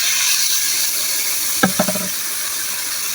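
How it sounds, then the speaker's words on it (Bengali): Water splashes into hilsa fish frying in a pan, heard as a loud, steady sizzling hiss with a short cluster of bubbling spatters midway, no talk. "জলের পানি দিয়ে দিলাম"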